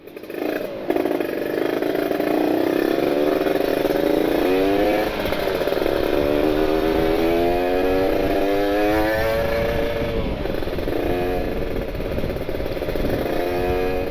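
A sport motorcycle on a test ride in open-filter trim, its engine droning loud and steady throughout, with rising and falling rev sweeps as it pulls through stop-and-go riding.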